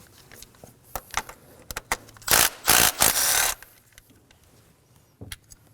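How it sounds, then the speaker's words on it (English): A 10mm socket loosens an ignition coil bolt on a 2016-2020 Kia Sorento 2.4L L4, giving close, scattered ratcheting clicks and scraping with a few louder rasping bursts in the middle and no talk. "I'm going to remove the bolt."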